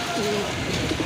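A male domestic pigeon coos in a low, soft burst near the end, with a brief higher call earlier, over steady busy background noise at a pigeon market stall.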